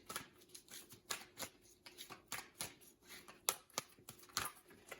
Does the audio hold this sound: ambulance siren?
no